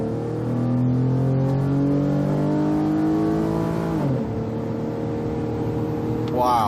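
A 2011 Ford Edge Limited with a rebuilt engine accelerates hard on a test drive, its engine note climbing steadily through the gears with one shift partway, loud and close from inside the cabin.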